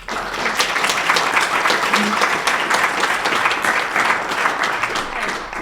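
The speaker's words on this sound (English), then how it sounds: "another round of applause for Richard, please." Sustained audience applause at a Cornish music archive symposium during the Lowender 2023 festival, a dense steady patter of many hands clapping close by, filling the whole stretch with no speech over it.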